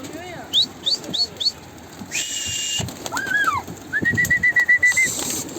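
Pigeons coo and call in short repeated bursts close by, with whistling bird notes, fluttering, and a voice speaking in between.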